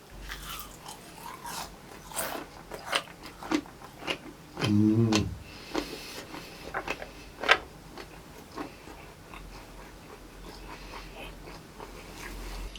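Crispy fried calamari tentacles crunch under close, loud bites, followed by a run of irregular, crackly chewing that fades into quieter mouth sounds, with no talking.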